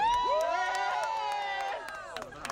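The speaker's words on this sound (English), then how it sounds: "Let's give a round of applause." A crowd cheers and whoops loudly at an outdoor anti-racist counter-rally in Philadelphia, with overlapping high shouts and voices, some scattered clapping, and a slight drop in volume near the end.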